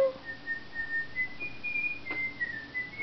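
A person whistles a wavering, sustained tune with slight pitch glides, fairly quiet against a soft room background.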